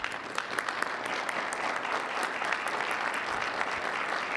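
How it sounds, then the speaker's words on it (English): Audience at a city council meeting applauding, many hands clapping in a steady, moderately loud burst with sharper individual claps standing out, no speech over it. "please stand so we can give you a round of applause"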